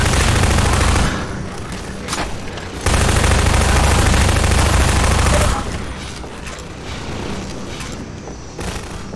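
Half-Life 2: Lost Coast SMG gunfire rattles in loud, dense bursts, one short volley at the start and a longer sustained stretch in the middle, with quieter game noise between.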